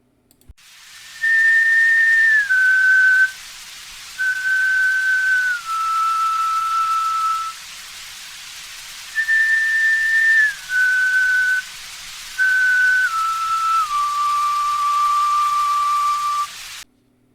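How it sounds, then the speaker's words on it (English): Stone Age flute playing a slow series of clear, breathy sustained tones that step downward in short phrases, separated by pauses, alone and close. "This is the sort of sound that a Stone Age flute can produce."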